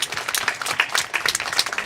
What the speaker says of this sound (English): Can we please give a round of applause for Janet King?